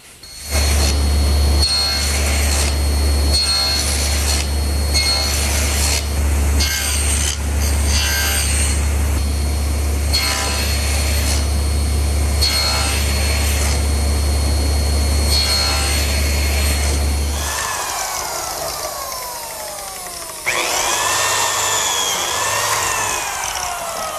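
A biscuit joiner plunge-cuts slots into wooden side pieces for compressed beechwood biscuits on a Shaker step stool, a loud close motor whine repeatedly cutting in, then spinning down to a fading whir before a final short run.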